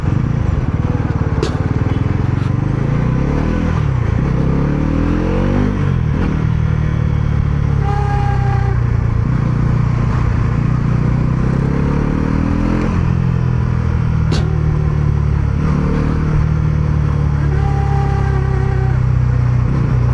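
A Bajaj Pulsar NS400Z naked street-fighter motorcycle revs loudly up close, its engine pitch climbing and falling repeatedly, with faint mechanical clatter.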